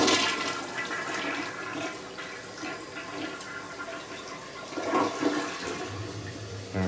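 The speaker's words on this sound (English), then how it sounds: "I don't want to flush it. It already did it." A household toilet flushing, a loud continuous rushing swirl of water that fades slightly and then keeps running as the tank refills, close by and with no talk.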